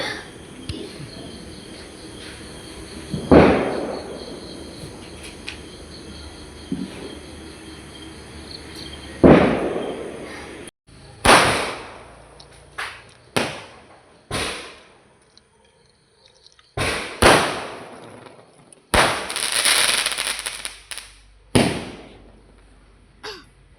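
Diwali firecrackers burst in a rapid, irregular series of sharp, loud cracks, roughly a dozen bangs, each snapping out and fading quickly over a faint background hiss.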